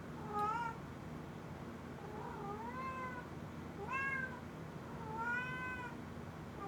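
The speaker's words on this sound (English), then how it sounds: "Your cat? Yes, she's in heat." Female cat in heat calling with a series of drawn-out meows, about five rising and falling cries spaced a second or so apart, fairly close but at low volume over a quiet room.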